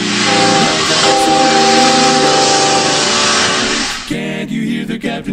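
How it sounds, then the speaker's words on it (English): A steam whistle blows in one long, loud, hissing blast lasting about four seconds, then cuts off into brief rougher noise. "Can't you hear the whistle blowing?"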